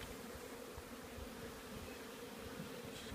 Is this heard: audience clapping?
no